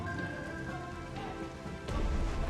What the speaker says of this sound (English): Despite the cover provided by the rain, the enemy locates and almost destroys one of our submarines.